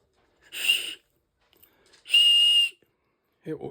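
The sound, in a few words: emergency whistle blown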